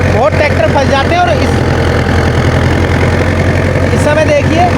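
A Sonalika Tiger tractor engine runs steadily under heavy load with a rotavator fully engaged at a tight turn, a constant loud mechanical drone with faint whining overtones throughout.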